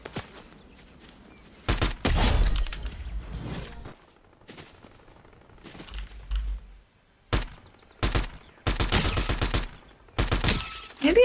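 Video game gunfire erupts in loud rapid bursts and short automatic volleys, separated by brief quieter gaps with faint movement sounds.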